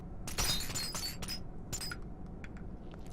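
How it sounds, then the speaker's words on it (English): Glass shatters and clinks in Viscera Cleanup Detail, several bright breaking bursts early on, then scattered tinkling shards that die away, fairly quiet and with no voices. "I still really like the sound of glass."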